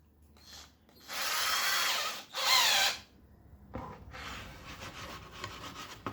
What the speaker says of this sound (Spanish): el primer agujero lo vamos a hacer con una broca fina, como siempre, una broca de 3 milímetros